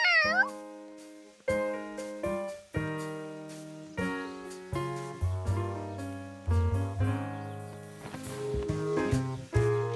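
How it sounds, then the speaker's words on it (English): Cartoon cat meowing in a children's animated show, a brief high meow at the very start, followed by bright orchestral cartoon music with plucked and sustained notes that fill the rest. "a cat!"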